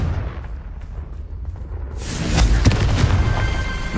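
A Confringo blasting curse erupts in Hogwarts Legacy, a sudden fiery explosion that bursts in after a quieter stretch and keeps rumbling loudly with crackling debris to the end.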